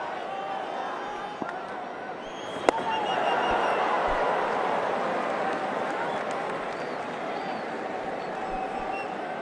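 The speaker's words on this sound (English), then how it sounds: "Good crowd in, very good crowd." A large crowd at an Asia Cup cricket semifinal between Pakistan and India in the UAE roars and applauds in a sustained wash of cheering, with a sharp crack partway through and commentators talking over it.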